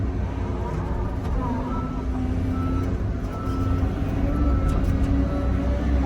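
A dump truck hauling material on a cold morning at an excavation job: a steady, heavy diesel rumble with constant road and engine noise and no voices.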